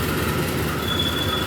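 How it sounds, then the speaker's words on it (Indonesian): Passenger trains coming and going at night at Cirebon station, Indonesia, rumble steadily with wheel squeal and a thin high whine, heard up close and loud with no talking. "Momennya itu biasanya kereta yang keluar masuk, kayak gini nih"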